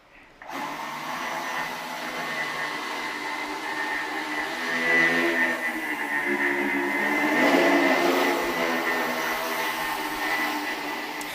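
A high-performance quadricopter flying machine whirs with a steady, high-pitched propeller drone that swells louder midway and holds alone without talk.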